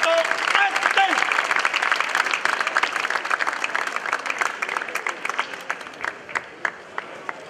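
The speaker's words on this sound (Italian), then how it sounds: "lo chiamiamo qui e lo salutiamo con un applauso" Applause for an honoree at a public square ceremony in Marsala, with a brief voice at the start, then a loud crowd clapping that thins into scattered, separate claps as it dies out.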